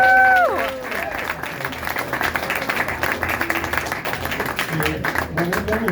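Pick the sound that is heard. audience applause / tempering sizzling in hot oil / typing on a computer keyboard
audience applause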